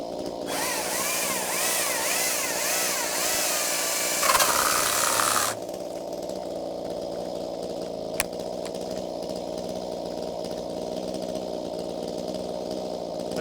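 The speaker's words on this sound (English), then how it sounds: "I'm gonna take a few cuts with this battery-powered saw in the same bit of wood" A battery-powered Echo 2511T chainsaw cuts wood with a loud, steady motor whine that shifts under load, then drops sharply to a quieter, even hum partway through, with one short click after that.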